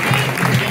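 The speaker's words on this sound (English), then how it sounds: "He's coming to clap the fans." Football fans clapping at a Chester versus Spennymoor Town match in a stadium, a short burst of steady crowd applause that holds at an even, moderately loud level.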